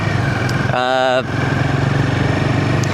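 A Royal Enfield motorcycle thrums along a road in Rajasthan with a steady, close engine drone. A short, rising whine breaks in near the middle, and voices faintly overlap the ride.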